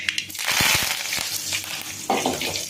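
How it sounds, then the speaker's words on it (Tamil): Curry leaves and mustard seeds hitting hot oil in a pan, producing a close crackling sizzle with sharp popping bursts and a fresh surge of spitting near the end. "இப்போ அடுத்தது வந்து கருவேப்பில் போடுறோம்"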